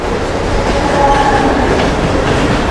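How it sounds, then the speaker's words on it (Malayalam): A slow local train passes close by near Thane market railway station, a steady, loud rumble of rolling wagons with faint wheel clatter running the whole time and no voices. "എന്താ അപ്പുറത്ത് കൂടെ ട്രെയിൻ പോകുന്നുണ്ട്"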